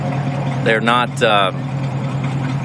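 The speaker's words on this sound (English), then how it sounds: "Car is sitting here at idle." A 1979 Pontiac Trans Am 10th Anniversary Pace Car with a 400 engine and four-speed idles steadily with a low, even hum throughout, while someone talks briefly over it.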